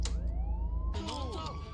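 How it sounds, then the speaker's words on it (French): A police siren in the video game Contraband Police wails in rising and falling tones that sweep across the short clip, loud and continuous, with a burst of background noise joining in the second half. "Sirène."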